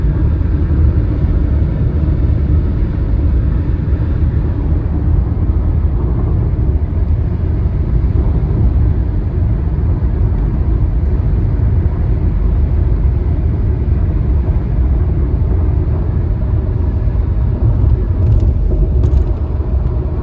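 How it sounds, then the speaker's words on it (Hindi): A car cruising along the Samruddhi Mahamarg expressway between Nagpur and Pune, heard from inside as a constant loud low road and engine rumble with steady tyre roar and no talking. "अभी भी गाड़ी चल रही है"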